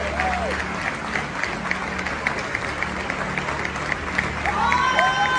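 A large crowd at a public political gathering applauds continuously, a dense, even wash of clapping with some cheering, while a voice speaks over it near the end.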